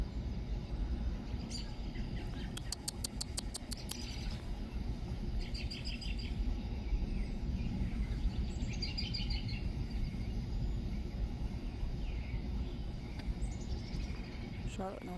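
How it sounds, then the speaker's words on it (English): Birds chirp and tweet on a bright, sunny morning in a Charlotte, North Carolina yard, with quick high trills and scattered calls over a steady background hum. "Birds are happy and chirping this morning."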